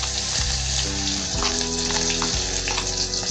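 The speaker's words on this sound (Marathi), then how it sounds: "कांदा आपण चांगला लालसर ब्राऊन होईपर्यंत परतून घेणार आहोत" Onion sizzling in hot oil with cumin seeds for a spicy udid dal, a steady close crackling hiss that runs throughout with no talk.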